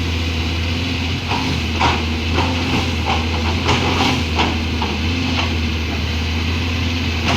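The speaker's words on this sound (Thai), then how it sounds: "เป็นเครื่องยนต์โทโบนะครับ" The turbo engine of a new CAT excavator felling palm trees drones steadily and loudly at a low pitch, with repeated rougher bursts and clanks as the machine works, no voices heard.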